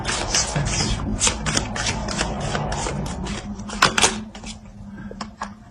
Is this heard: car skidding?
no